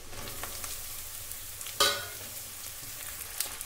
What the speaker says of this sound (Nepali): अब यसमा यो भान्टालाई राख्छु।